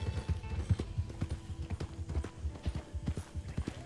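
A horse's hooves clip-clop steadily and rhythmically in the video game Red Dead Redemption 2, a close, continuous stream of hoofbeats throughout.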